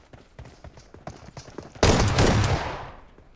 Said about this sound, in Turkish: Nereye sıkıyor ya?